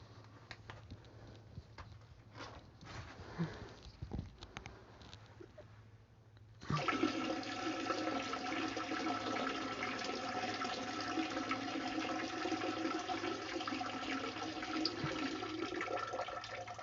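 A toilet flushing in a restroom, a sudden loud rush of water starting partway through and continuing steadily to the end, after quieter room sounds.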